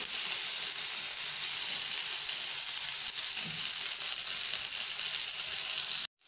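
Malpuri batter frying in hot oil in a pan, a steady loud sizzle and crackle running continuously for several seconds before cutting off abruptly at the end, with no talking.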